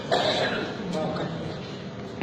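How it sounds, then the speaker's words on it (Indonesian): An older man coughs several times in a row, close and fairly loud, at a church service with background noise in the hall. "saya punya batuk sudah 5-60 tahun"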